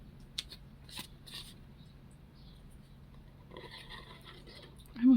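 Paper being cut with scissors while a small printable pocket book is made, a few short crisp snips spread out and then a longer stretch of cutting, close and quiet, with faint background hum.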